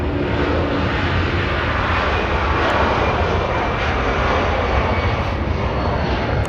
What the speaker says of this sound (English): Oh, hear the engines. Hear the Pratt Whitneys.